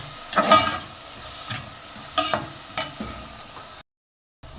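Chopped tomatoes frying in a pan with a little salt are stirred in several quick scraping bursts over a soft sizzle, then the sound cuts briefly to silence.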